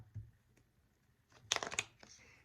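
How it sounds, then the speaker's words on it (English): A deck of tarot cards is shuffled by hand during a reading, heard as a brief, soft burst of riffling and flapping card edges after a quiet pause, close to the microphone. "1 more shuffle."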